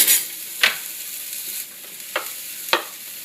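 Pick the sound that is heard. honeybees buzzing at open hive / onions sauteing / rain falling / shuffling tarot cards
onions sauteing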